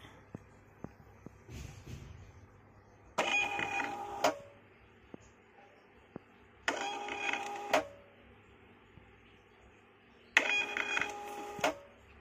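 A Bluetooth XP-Printer thermal receipt printer runs three separate print bursts, each a buzzing whir of about a second, with quiet gaps and faint clicks between them.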